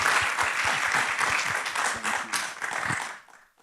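Audience applause at the close of a talk by two college presidents: dense clapping from many people that thins and fades out into quiet near the end.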